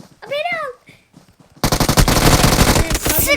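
Rapid automatic gunfire in a shooting video game bursts in loudly after a young voice exclaims, a dense continuous rattle that runs to the end.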